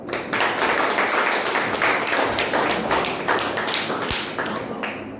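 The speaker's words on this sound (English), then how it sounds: "with a huge round of applause, welcome Mandeep Chabra" A big round of applause greets a speaker at a Toastmasters club meeting. The crowd's clapping is sustained, dense and close, with a single thump near the end as it tapers off.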